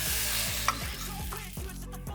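Premade starch-thickened sauce poured into a hot pan over medium heat and stirred, giving a steady close sizzle with a few soft scraping strokes of the spoon against the pan.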